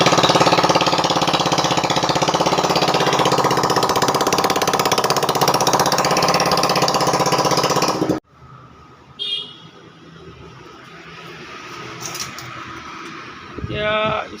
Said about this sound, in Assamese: চাইলেঞ্চাৰ নোহোৱাকৈ ষ্টাৰ্ট কৰি দেখাই আছোঁ।